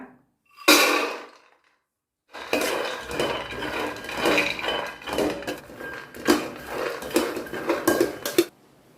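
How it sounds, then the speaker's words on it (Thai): Peanuts dry-roasting in a pan, loose nuts rattling and scraping against the metal in repeated bursts after a short clatter and pause. "เราจะคั่วถั่วลิสงก่อนนะคะ"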